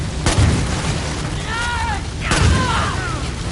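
Two heavy booms of explosions land about two seconds apart, each a sharp thump with a rumbling tail, amid constant noisy background and whistling tones, with a voice speaking between them.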